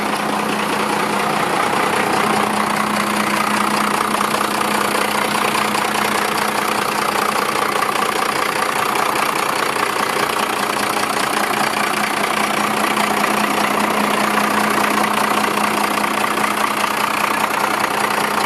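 First-generation Dodge 12-valve Cummins diesel in a 5-speed 4x4 flatbed truck with a new head and bigger turbo, idling in neutral: a loud, steady close rumble with a clattering knock, constant throughout.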